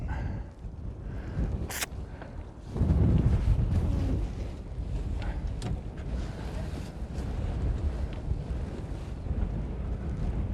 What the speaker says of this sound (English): That is a gust of wind.